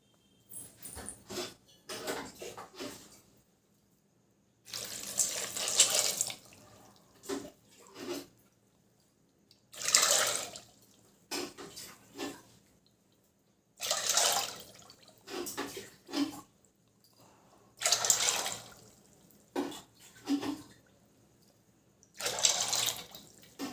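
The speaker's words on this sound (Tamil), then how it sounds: "இப்போ இது முழுகிற அளவுக்கு தண்ணி ஊற்றிப்போம்." Water poured into a pot over pasta in a home kitchen, heard as repeated bursts of splashing pouring separated by pauses, fairly close and moderately loud, with no talking.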